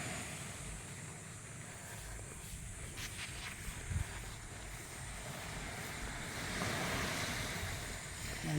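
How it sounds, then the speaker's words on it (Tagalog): Sea waves wash onto a beach front at Calauag, Quezon, heard as a continuous broad surf roar mixed with wind buffeting the microphone, steady throughout. "Ngayon po lalapitan na po natin yung pinakadagat."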